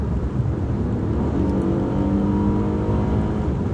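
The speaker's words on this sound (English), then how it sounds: "This transmission, this 6-speed transmission, downshifted very quick, very aggressively, and I'm going to do that again for you guys to get a taste of." An Acura RLX with a 6-speed transmission revs hard through a quick, aggressive downshift, the engine note climbing steadily over a continuous close-up drone with no talking.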